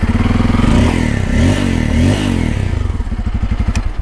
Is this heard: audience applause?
no